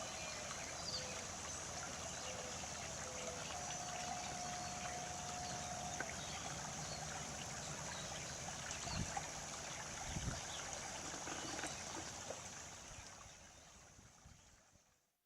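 Storm water runoff pours steadily off a shoreline property into an orchard, a continuous broadband rushing and trickling that stays even and close throughout, with a few faint thumps near the end.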